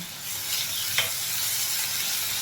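Onion paste and Kashmiri chili powder frying in oil for a Bengali egg curry, giving a steady, moderately loud sizzle and hiss throughout with one brief sharper spatter near the middle.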